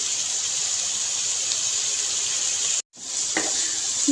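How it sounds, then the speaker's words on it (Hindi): Masala with yogurt frying in a pan for a green chilli masala dish, a steady, loud sizzle that drops out briefly before hissing on again, with a faint clink near the end. "यहाँ पे इसको भून लेते हैं मज़ीद 1 मिनट।"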